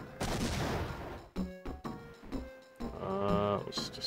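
Cartoonish cannon blasts from The Sims 2 DS handheld game: a booming burst followed by several quick thumps and jingly game effects, moderately loud, no talking.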